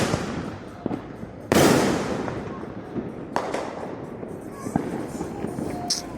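Cheap Fourth of July fireworks in Allentown going off as a few sharp, nearby bangs with one loud burst and smaller pops afterward, over outdoor background noise.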